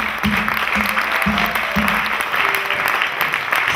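A church congregation applauds in praise during a worship service, a dense, sustained clapping that fills the room. Faint voices sit beneath it.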